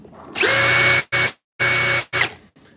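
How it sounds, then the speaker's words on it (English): A compact handheld power drill whirs loudly in four bursts, two long runs each followed by a short one, with brief silences between, in a shop. "you want to see the handheld drill that we use in the shop?"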